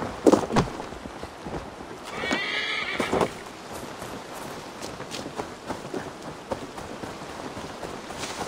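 In Assassin's Creed Valhalla, a horse whinnies and hooves clop over a steady patter of rain, with scattered thuds and splashes throughout.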